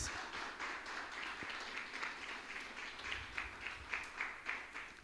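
An audience in a church service applauds at a preacher's urging, steady rhythmic clapping from many hands heard somewhat distant and faint, with the beat pulsing regularly throughout.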